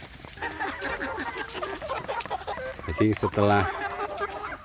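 Free-range village chicks cluck and peep for more leftover rice, a busy cluster of small chirps with a louder burst near the middle, while someone talks over them.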